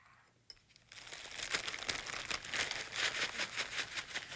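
Plastic bag holding breadcrumbs, sesame seeds, garlic powder and salt shaken hard, a steady run of loud crinkling and rustling rattles that begins after a brief quiet moment and continues without pause.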